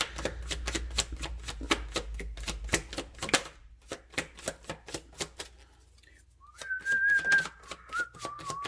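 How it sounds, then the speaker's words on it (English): A person whistles a brief wavering tune near the end, over rapid rhythmic tapping clicks that run through most of the clip. "Sorry for the whistling."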